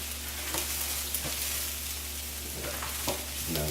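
Risotto rice toasts in a hot pan, a continuous dense sizzle with a few soft stirring scrapes and clicks spread through it.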